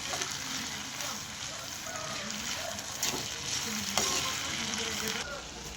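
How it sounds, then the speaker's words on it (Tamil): Cluster beans with grated coconut stir-fried and stirred in a pan, giving a steady close sizzle and crackle with scraping spoon strokes throughout. "தேங்காய் சேர்த்து ஒரு கிளறி கிளறி அடுப்பை ஆஃப் பண்ணிடுவோம்"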